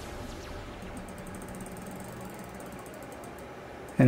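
A stepper motor turns in small steps under a DIY tester, giving a steady, faint mechanical whir with a fine ratcheting texture. A louder bump cuts in at the very end.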